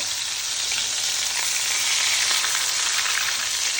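Burger patties sizzle steadily in a hot pan, a loud, continuous frying hiss with faint crackle and no voices.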